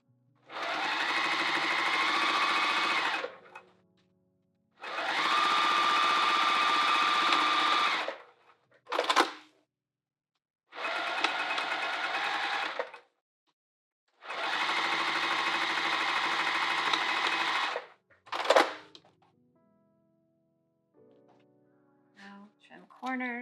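A sewing machine stitches handbag edges in five separate bursts of steady, fast whirring, with short pauses and brief clicks between runs and a little handling noise at the end.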